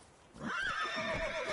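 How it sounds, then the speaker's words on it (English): One short, rising-and-falling whinny from a horse in The Witcher 3 rings out close by, with a few hoof clops beneath it and no talk. "The horse just tried to attack him."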